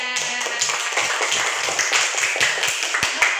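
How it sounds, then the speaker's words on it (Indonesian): Students in a classroom clapping, a fairly quick and uneven patter of a small group's hand claps, close and moderately loud with no talking. "betul, beri tepuk tangan."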